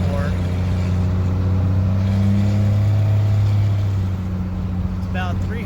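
A 1998 Cummins 12-valve diesel truck with an HX Super 9 turbo cruises around town under mild acceleration, giving a continuous droning engine hum with a faint rising whine toward the end.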